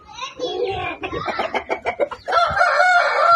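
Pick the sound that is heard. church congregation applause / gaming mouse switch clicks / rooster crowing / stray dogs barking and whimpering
rooster crowing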